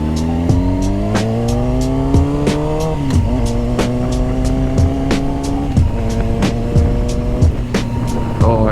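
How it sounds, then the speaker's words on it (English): A motorcycle engine revs hard and close, its pitch climbing in repeated steady sweeps with sharp gear-change breaks, loud and continuous with no talking. "Oh, I forgot how good this bike sounds."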